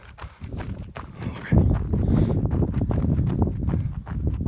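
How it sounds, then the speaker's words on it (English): Footsteps thud during a tai chi running workout, a quick, steady rhythm of footfalls close by that grows heavier and louder partway through and continues to the end. "so you don't just have to hear the sound of my footsteps."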